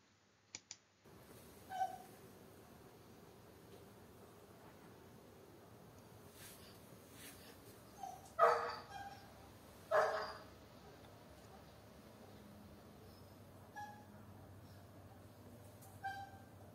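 A standard poodle left alone gives a handful of sharp, high-pitched barks, spaced irregularly with two close together near the middle, fairly faint over a quiet room hum and scattered clicks.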